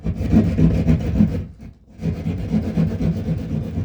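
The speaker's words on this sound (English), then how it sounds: "Jigsaw. Or drywall saw, or whatever." Drywall saw cutting into a wall, a run of quick rasping push-pull strokes up close, a short pause midway, then the sawing resumes at the same brisk pace.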